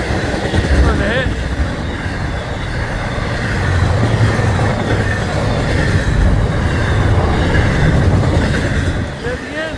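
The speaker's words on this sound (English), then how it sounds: "Oh, train tonight." A train rolls past at night, a continuous loud rumble with rail clatter and faint squeal filling the whole stretch, with brief speech mixed in.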